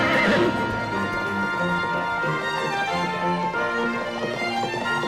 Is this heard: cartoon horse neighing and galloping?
yes